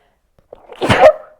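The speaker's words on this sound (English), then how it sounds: "I'm going to sneeze" A single close, sharp sneeze bursts out after a brief inhale, loud and sudden in otherwise quiet surroundings.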